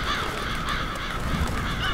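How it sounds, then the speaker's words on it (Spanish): Crows caw in a cutscene from the video game Billy Hatcher and the Giant Egg, a steady wash of raspy bird calls layered over game music, fairly loud throughout with no talking. "Ahí vienen los cuervos"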